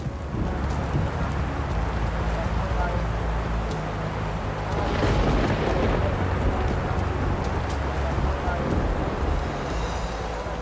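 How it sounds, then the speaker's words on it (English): Rain falls steadily with wind during a storm, a continuous broad hiss and patter with low rumbling underneath, while people talk over it throughout. "Now it started raining again."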